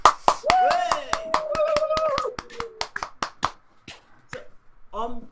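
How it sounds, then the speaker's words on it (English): A few pairs of hands clap in a quick, evenly spaced rhythm for a guest on a live stream show, close and crisp, with a sustained voice running over the first half before the claps thin out. "Ladies and gentlemen, round of applause,"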